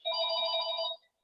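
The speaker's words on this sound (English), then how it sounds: "There's a phone call." A telephone rings during a philosophy talk, one sustained electronic trill lasting about a second, clear and fairly close, followed by a short silence.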